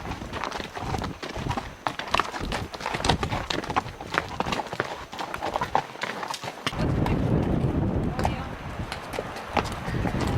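Horse hooves clop steadily along a mountain trail near the Continental Divide during a long horseback ride, a close, rhythmic walking beat over outdoor ambience.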